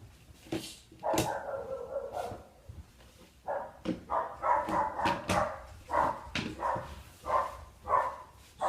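Household dogs bark indoors at the mailman, a string of repeated sharp barks with short yips and whimpers between them, moderately loud and close, with no talking.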